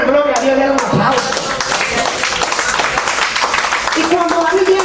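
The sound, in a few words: congregation applause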